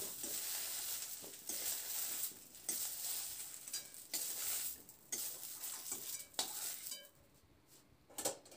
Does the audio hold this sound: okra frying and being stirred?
yes